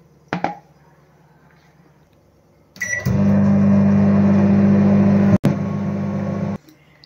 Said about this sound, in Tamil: மைக்ரோவேவில் வைக்க போகிறேன்.